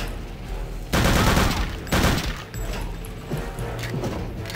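MP40 submachine gun firing in Return to Castle Wolfenstein, loud dense bursts of automatic fire with sharp crashing onsets, roughly three bursts over a few seconds.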